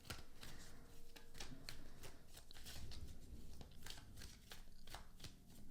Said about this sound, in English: Let's pull some tarot cards here.